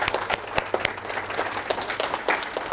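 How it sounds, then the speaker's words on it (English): An audience applauds a senior coach at a gathering, a moderately loud wash of clapping with several sharp, close individual claps standing out, continuous for nearly three seconds. "let's give him a big round of applause"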